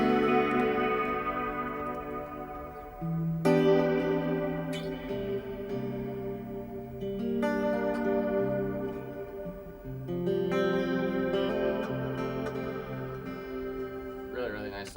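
Electric guitar chords and single notes played through a reverb pedal, ringing out with a lush, washy reverb tail, played alone at moderate volume.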